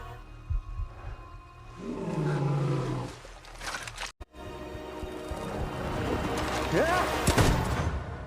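A lion's deep, drawn-out roar rumbles through the middle, followed by a loud sharp gunshot and more growling with scattered noise, in the film Beast (2022).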